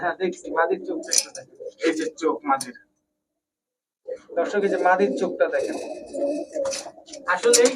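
Giribaj high-flyer pigeons cooing at a pigeon market, soft repeated coos close by, mixed with someone talking loudly over them, with a brief silent gap partway through.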